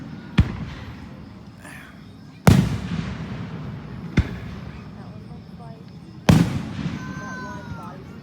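Fourth of July fireworks burst overhead, four sharp booms at intervals, two louder and two lighter, each followed by crackling fizz and a brief whistling trail near the end, against a low background murmur.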